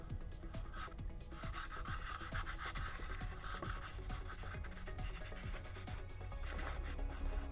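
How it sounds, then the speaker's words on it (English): Sandpaper rubs over gray filler primer on a handmade Boba Fett jet pack, a steady, continuous scratchy rasp of quick back-and-forth strokes, close and fairly quiet with no voices. "go ahead and start sanding again"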